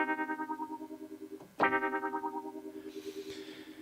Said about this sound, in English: let's see what touch wah is